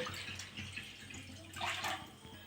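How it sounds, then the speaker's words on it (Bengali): Water poured into a wok set on a lit gas stove, a soft steady splash and trickle that swells briefly toward the end, heard close with no talk. "গ্যাসটা জ্বেলে কড়াটা বসিয়ে দিয়েছি, আর কড়াতে আমি জল দিয়ে দেবো।"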